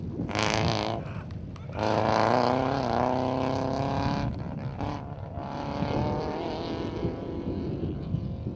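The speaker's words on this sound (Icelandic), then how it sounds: "Annar bíll! Annar bíll!" Rally car passing by on a gravel stage, engine roaring loudly up close, revving through gear changes and then fading away, with people talking nearby.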